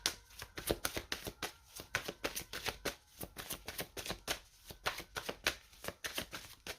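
Oracle cards being shuffled by hand, a close, brisk riffling repeated in a fairly even rhythm of quick bursts for several seconds, with no voice over it.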